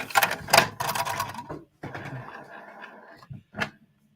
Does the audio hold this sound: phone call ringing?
no